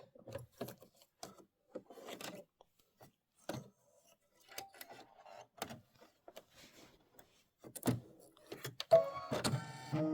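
An embroidery machine stitches a quilt border for a nativity bench pillow in quiet, intermittent bursts of rubbing and mechanical whirring. A louder, denser stretch of motor activity comes near the end.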